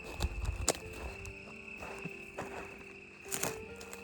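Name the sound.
loud crickets chirping near an old mine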